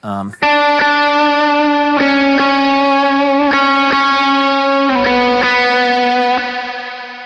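An electric guitar plays sustained, bright chords through a hissy, distorted effect, with several strums ringing out loudly and a fading tail.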